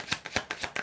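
Tarot cards are shuffled close up in a quiet room, five quick, even riffling swishes in a steady rhythm.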